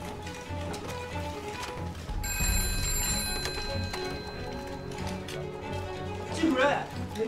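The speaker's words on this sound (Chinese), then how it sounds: "季主任，您的电话" A telephone bell rings with a sustained metallic trill for about two seconds in an indoor scene from a Shanghai period drama, set against muffled room noise and movement.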